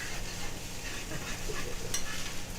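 Chicken and vegetables stir-frying in a flat pan rather than a wok give a steady, close hiss of sizzling with faint stirring scrapes and one brief clink, no voices.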